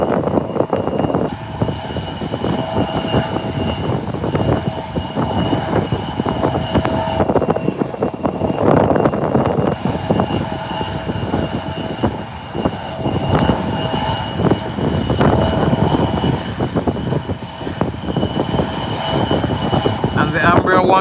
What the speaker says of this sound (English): The Ambria 120 has made its 180-degree turn. And will be taking off soon.